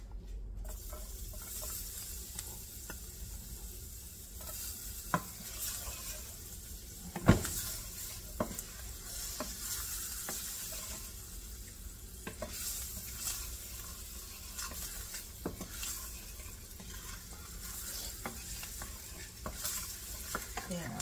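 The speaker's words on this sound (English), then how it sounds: "add in my garlic. And I'm going to let my garlic burn and smell" Garlic sizzles and fries steadily in a pan for vegetables being cooked down in coconut milk, with occasional stirring clinks and a louder utensil knock partway through; no talking.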